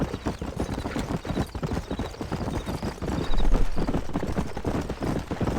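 Steady rapid clip-clop of a ridden horse's hooves in Red Dead Redemption, close and continuous, with a brief snort partway through and no voices.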